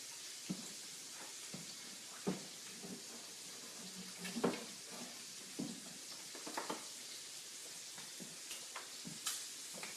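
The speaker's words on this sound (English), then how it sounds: "You want to let it sit in the pan and let it cook." Shrimp for General Tso shrimp cooking in a pan, a faint, soft sizzle with sporadic light clinks and taps of utensils against the pan, fairly quiet and without talk.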